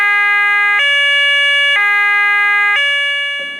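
A fire alarm at a firehouse in a children's story sounds as a loud, steady electronic tone that pulses in repeating blocks of about one second each, alone and close.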